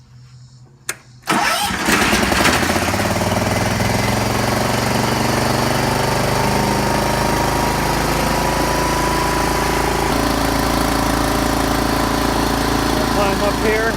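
A John Deere 314 garden tractor engine cranks briefly, then catches and settles into a loud, steady, close running drone that continues without letup.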